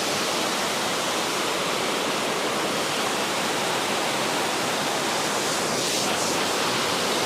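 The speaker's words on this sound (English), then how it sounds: "I got real close up here to the falls. It's a little bit small as they're coming out. It's a lot of water." Waterfall beside a road, seen close up with plenty of water coming over it: a steady, dense, full roar of pouring water, loud and unbroken throughout with no voices.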